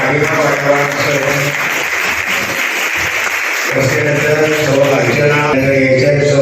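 A crowd claps loudly and steadily at a prize-giving felicitation ceremony, continuous applause filling the whole stretch with a brief thinning midway.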